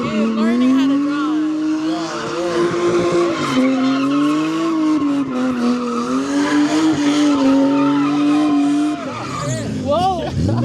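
A car drifting sideways at a car meet, its tires letting out a loud, sustained wavering squeal mixed with engine roar for several seconds before it breaks up. Voices of people can be heard.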